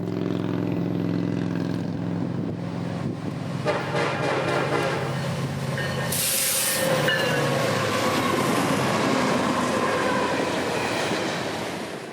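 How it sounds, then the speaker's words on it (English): A southbound ethanol freight train on Florida's S-line, led by KCS 4167, rumbles past close by. Its K5LLA horn sounds in long sustained chords over the steady roll of wheels and railcars, and the noise swells midway. "The leader, KCS 4167, would turn many heads of rail fans today in Florida with the fact that it was leading and its fantastic K5 LLA horn"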